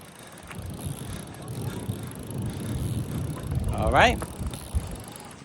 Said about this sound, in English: Show them how you push and how you ride.